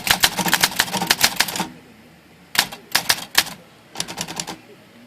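Rapid typing on a mint-condition Olympia SM-9 manual typewriter with a newly recovered platen: dense clacking keystrokes in three bursts separated by short pauses, close and loud.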